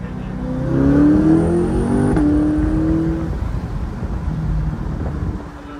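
A Corvette C8 engine revs up with a rising whine after a downshift, holds, then settles back to a rumbling idle, with wind buffeting in the background.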